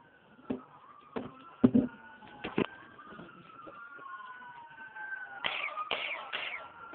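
A toy scope gun plays an electronic ambulance siren effect: a thin wailing tone that slowly sweeps down and then up again, broken by sharp clicks from button presses. The sound is close and moderately quiet.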